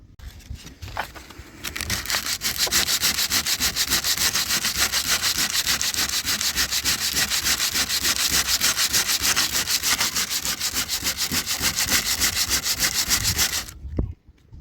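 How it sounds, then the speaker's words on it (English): A metal cutting blade scrapes high spots off car body filler on a Volvo body panel, making a loud, steady rhythmic rasping that runs continuously for about twelve seconds before stopping abruptly. "just a metal cutting blade, just to kind of scrape off and cut off those high bits"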